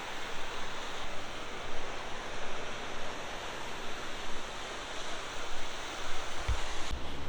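High floodwater rushes through downtown Gatlinburg in the Great Smoky Mountains after Hurricane Ida, a continuous roaring wash of noise that swells and dips gently with no voices.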